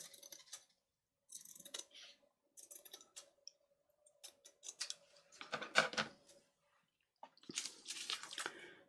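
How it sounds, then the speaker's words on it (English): Scissors snip through craft material while trimming a file folder journal to size, several short crisp cutting and rustling bursts separated by pauses, close and fairly quiet. "So I'll cut it about there."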